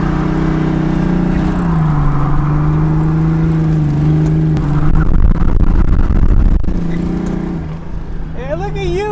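A repaired drift car idles with a steady engine drone, then revs up and settles back, close and loud, with a voice speaking briefly near the end.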